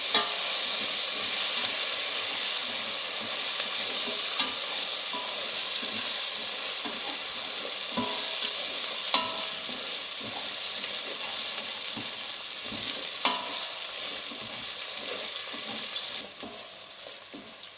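Chopped onions for keema curry frying in a pan, a steady close hiss of sizzling oil with occasional stirring scrapes and soft pops throughout, no voices.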